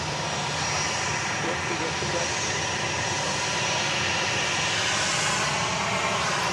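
Southwest jet airliners taxi at Dallas Love Field, their engines making a steady, loud roar and whine that swells slightly toward the end, with a voice talking underneath.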